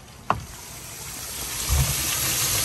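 A water pump pulls water out of a backyard pool pond, producing a steady, low broadband rush that slowly builds in strength, with a sharp knock near the start and a dull thump partway through.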